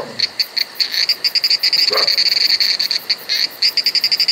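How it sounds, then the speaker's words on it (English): Green tree frogs in a South Indian monsoon forest croak in rapid, pulsing bursts, a loud chorus of repeated rasping calls close by, with insects trilling faintly underneath. "the green tree frogs that come out during the monsoon for their egg laying"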